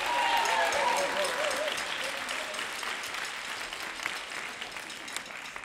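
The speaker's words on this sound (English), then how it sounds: "Can we give a big round of applause to Billy?" A concert audience at a spring jazz ensemble performance breaks into a round of applause, loud at first and gradually thinning into scattered clapping with some crowd noise.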